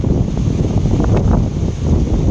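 Strong cold-season wind in a Thai countryside village, buffeting the microphone as a loud, continuous rushing roar with gusty swells.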